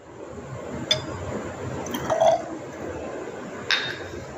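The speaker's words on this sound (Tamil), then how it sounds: "கண்ணாடி கிளாஸில் தேங்காய் எண்ணெயை ஊற்றியாச்சு. அதுக்கு அடுத்தது தண்ணியை ஊற்றும்." Water poured into a glass tumbler already holding coconut oil for a density test, giving a steady, soft liquid rush with a few faint clinks against the glass.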